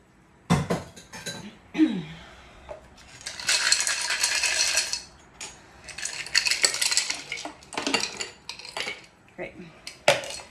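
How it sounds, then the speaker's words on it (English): Ice cubes clatter and clink against a glass as they are dropped into a Gentleman Jack New York Sour cocktail, in several sharp rattling bursts separated by brief pauses. "I am gonna add a little bit of ice"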